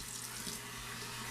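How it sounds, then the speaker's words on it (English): Tap water pours steadily onto a shaving brush loaded with soap during a wet shave, a continuous close splashing hiss with no speech over it. "just keep piling the water on,"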